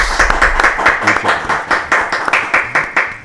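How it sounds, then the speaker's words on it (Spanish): Loud, rhythmic clapping from an audience, sharp regular claps close by, sustained for a few seconds with no talking. "Vamos a recibir con un fortísimo aplauso a Carlos José Fleitas Rodríguez"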